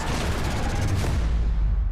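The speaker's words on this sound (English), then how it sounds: "Explosions." Dense, booming explosions and heavy blasts rumbling continuously, loud and close, from a trailer for the Bollywood action film Singham Again.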